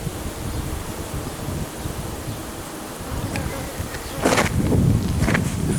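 Honey bees swarming around a built-up hive frame, a steady diffuse buzz throughout that swells louder and closer toward the end, with light rustling handling noise.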